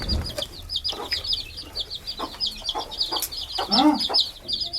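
A chicken clucks repeatedly nearby in short, choppy bursts, with other fowl faintly calling in the background.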